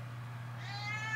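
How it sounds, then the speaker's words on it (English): A house cat lets out a single drawn-out, rising meow close to the microphone, heard over a faint steady hum with no talking. "My cat's screaming at me. I know you can hear her."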